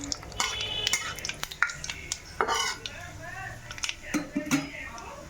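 Bay leaves and dried red chillies crackling in hot oil, with a utensil scraping and clinking against the pan and a voice talking over the cooking.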